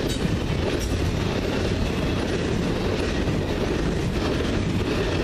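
A CN freight train rolls steadily past at Ladysmith behind a newly delivered Tier 4 locomotive, with continuous loud wheel rumble and clickety-clack from the wagons throughout.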